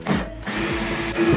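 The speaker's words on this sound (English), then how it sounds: "We're gonna use a drill and take that off." Brief close whir of a power drill backing out screws from a Genesis Coupe tail light, in short pulsing bursts with a motor tone that dips and recovers.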